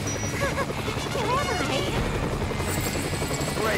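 A helicopter in the video game Lollipop Chainsaw drones steadily with a churning rotor beat, under a busy mix of game sound and a voice talking.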